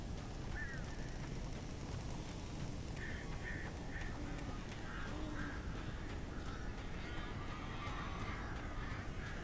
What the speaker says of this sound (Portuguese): Vários corvos.